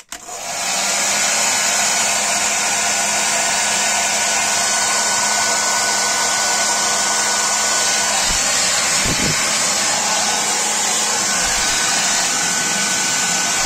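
A hair dryer powered through a VEVOR 12V inverter blows with a loud, steady roar and high whine, running continuously from start to finish with a few brief low thumps near the middle.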